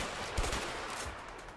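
Gunfire in a cartel-themed online video game shooter, a short burst of loud shots near the start followed by a few fainter pops over steady background noise.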